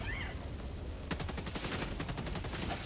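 Rapid bursts of automatic gunfire in the video game Helldivers 2, a dense rattling volley starting about a second in and continuing to the end, loud over a background of game noise.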